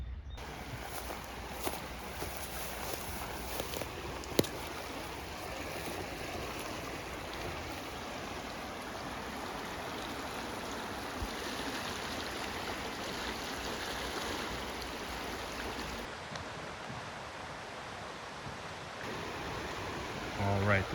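Rock Creek flowing beside a winding hiking trail in Twin Falls, Idaho, a steady broadband rush of running water that holds unchanged throughout, close and continuous with a brief dip in intensity near the end.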